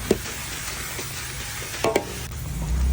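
Pad thai rice noodles are stir-fried in a pan while water is added bit by bit: a continuous soft sizzle with a few sharp scraping knocks of the spatula, nearby and without talk.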